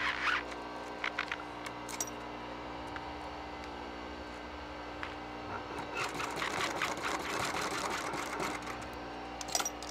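Sewing machine stitching a tuck and roll seat cover for a 1947 Ford, a steady close mechanical whir that grows louder and busier in a continuous run toward the end, alone without talk.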